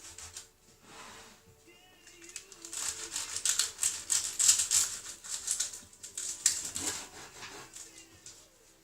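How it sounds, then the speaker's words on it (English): A serrated bread knife saws through crispy sausage rolls in repeated scratchy, crunchy strokes close up, the rasping bursts growing louder in the middle and tapering off toward the end. "So, I'm going to literally cut them"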